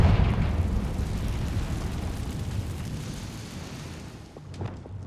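Fiery Confringo spell blast from the Hogwarts Legacy video game, a loud rumbling explosion with dense low-end roar that slowly decays over several seconds, followed by a few faint crackles near the end.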